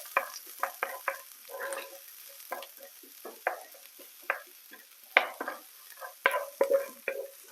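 Onions caramelising in a frying pan, a steady sizzle broken by repeated scraping stirs that come in short bursts, close and clear with no talking.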